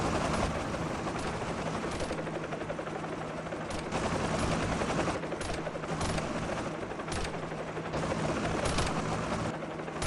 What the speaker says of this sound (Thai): ตอนนี้น้องเคก็กำลังเตรียมพร้อม ที่จะยิงฮอแล้วนะครับ